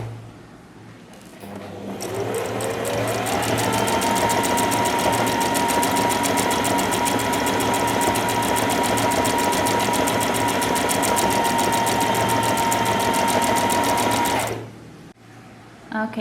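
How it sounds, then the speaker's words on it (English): A sewing machine stitches the hems of a pillow cover in a long, loud, rapid mechanical run of about twelve seconds, starting and stopping cleanly, with a voice talking under the stitching. "now we will begin sewing the hems"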